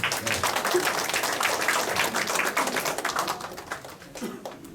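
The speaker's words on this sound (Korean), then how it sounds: "또 박수 한번 쳐주세요" Audience applause at a poetry lecture, a steady moderate patter of many hands that thins and fades toward the end, with faint voices underneath.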